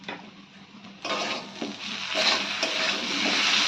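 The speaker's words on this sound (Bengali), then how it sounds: "সব কিছু ভালো করে আমরা মিশিয়ে নেব।" Spices, coriander powder, green chili paste and ginger paste, stirred into a prawn and taro curry in a pan, giving a steady close scraping sizzle that swells after the first second and holds on to the end, with no talk.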